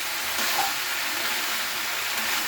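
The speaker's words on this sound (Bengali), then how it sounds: "হলুদটা দেওয়ার পরেও আমি একটু নাড়িয়ে নিচ্ছি।" Fish curry spices with turmeric being stirred in a hot pan give a steady, dense, close sizzle that continues without break, with faint scraping underneath.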